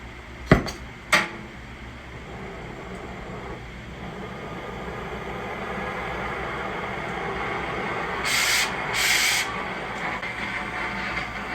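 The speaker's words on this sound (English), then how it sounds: "I was holding it over one spot with the preheat flame until it started to glow" An oxyacetylene torch preheats a spot on metal until it glows, ready for a cut, giving a steady close roaring hiss that rises slightly over time. Two sharp metallic clanks come early, and brief louder hissing bursts come near the end.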